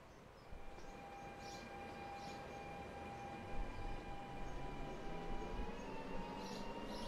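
A Trenord train rolling along a railway in the video game Transport Fever 2, a steady mid-level rumble of wheels and carriages with faint sustained tonal whines running throughout.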